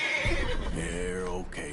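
A horse in Red Dead Redemption 2 gives one loud, close whinny that rises and then falls away over a couple of seconds.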